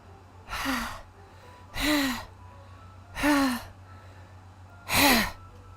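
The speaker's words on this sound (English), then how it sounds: "A sharp inhale, like someone is sucking the earth through their teeth." Four sharp, raspy breaths drawn in at steady intervals in Doki Doki Literature Club, each a loud airy hiss through teeth with a rising whistle-like tone, over a low steady hum.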